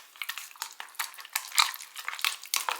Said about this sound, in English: So, let's give it a little mix.